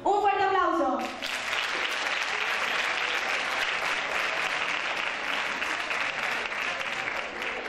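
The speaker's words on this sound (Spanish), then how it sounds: "¡Un fuerte aplauso!" An audience applauds after a nursery school end-of-year performance, a brief musical tone cut off as sustained, dense clapping takes over and continues steadily for several seconds.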